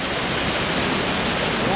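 Rushing water from a forest waterfall on Vancouver Island, a steady broadband roar that stays even and loud for the whole stretch, with no breaks or other sounds standing out.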